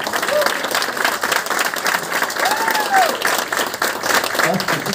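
An audience at a nineteenth-anniversary celebration meeting in Secunderabad claps steadily and densely for the whole stretch, with voices talking faintly underneath.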